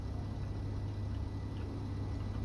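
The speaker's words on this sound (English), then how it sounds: "my ship sounds like a bloody diesel truck just sat there" A spaceship engine in the Space Engineers video game idles with a low, steady chugging drone like a diesel truck sitting still, faint and continuous with no talk.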